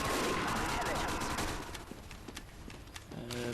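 Grenades going off in Team Fortress 2, a dense run of loud blasts and crackling bursts at first, thinning to scattered sharper pops, with a short tonal sound at the end.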